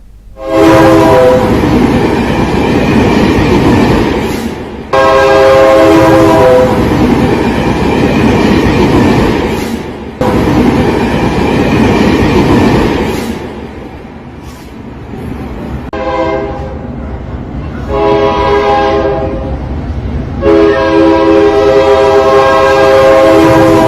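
A train on a railway track sounds its horn in long, loud repeated blasts, with the heavy rumble and clatter of the passing rail cars underneath and brief gaps between the horn calls.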